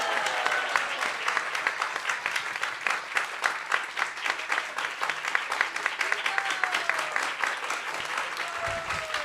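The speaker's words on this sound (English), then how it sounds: "Give them some applause." An audience at a Krishna Katha gathering applauds children who danced, with steady, dense clapping that holds at an even level throughout.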